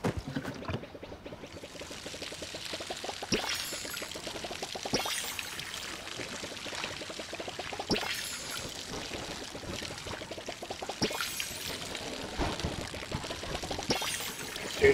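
Repeated watering splashes while tending plants in the cozy video game Palia, soft pouring bursts recurring every couple of seconds over a faint background.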